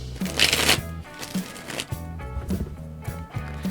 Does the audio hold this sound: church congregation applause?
no